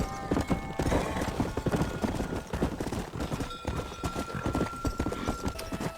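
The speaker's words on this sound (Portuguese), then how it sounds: "Novo cavalo." A horse in the Red Dead Redemption video game gallops with steady, loud clip-clop hoofbeats throughout, with whinnies mixed in and a busy layer of game sound around it.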